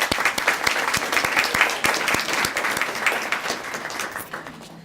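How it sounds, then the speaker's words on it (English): A room full of people applauds breakfast sponsors at a school community event, with some individual claps standing out sharply before the clapping thins and fades away. "If we could give them a round of applause."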